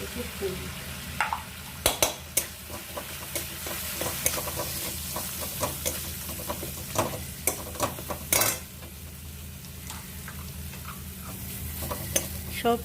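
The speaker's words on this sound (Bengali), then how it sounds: "মশলাগুলো একবার ভালো করে কষিয়ে নিলাম" Spices sautéed and stirred in a pan, a continuous close sizzle punctuated by frequent sharp clicks and scrapes of a utensil against metal.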